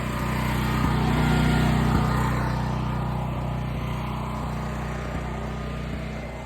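A portable generator engine runs steadily at a moderate distance, a continuous humming drone with faint rhythmic ticks, its level easing slightly toward the end as it is left to run out of fuel.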